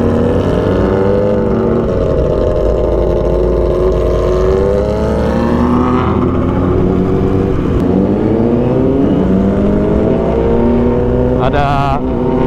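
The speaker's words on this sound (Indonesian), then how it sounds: "Gacor banget knalpotnya." A motorcycle's loud aftermarket exhaust revs nearby during a group ride. The strong, steady engine roar rises and falls as the throttle opens, and a voice talks faintly underneath.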